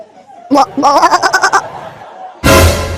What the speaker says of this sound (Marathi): बाई कोणाचा बकरा होय हा माझ्या शेराईवर बो बो बो करून राहिला